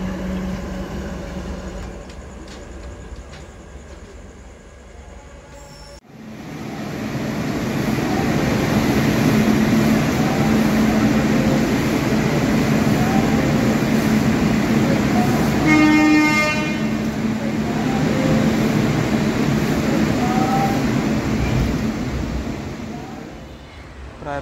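The Padatik Express leaving Barddhaman Junction platform 5 sounds a long horn blast after a sudden jolt, then rolls with a loud, steady rumble, a brief tonal horn or whistle rising midway over the running noise.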